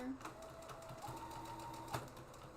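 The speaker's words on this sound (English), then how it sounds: "we're gonna go ahead and sew these pieces together" A sewing machine stitching fabric bag pieces together, a steady whirring run with a faint motor hum throughout, fairly quiet and close.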